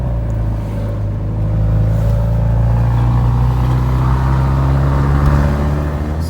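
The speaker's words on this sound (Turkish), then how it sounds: "Hızlı gidiyor araba." A VW Polo GTI tuned to stage 2+ accelerates hard, its engine droning loud and close with a rising pitch as it gathers speed over several seconds.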